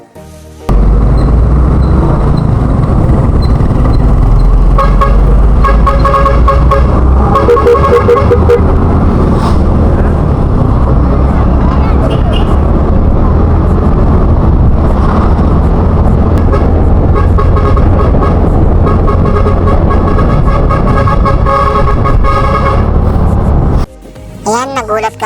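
A truck's novelty horn honks repeatedly on a road near the DRT arch, sounded from a following vehicle over a loud, steady engine and road rumble, with voices talking throughout.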